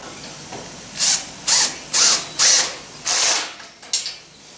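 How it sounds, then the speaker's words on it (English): A power driver sets screws into the timber of a fabricated Victorian-style wooden garden bridge, giving six short, even whirring bursts with brief pauses between them, close and fairly loud. "It's really hard to line up the driver on the axis of the screw."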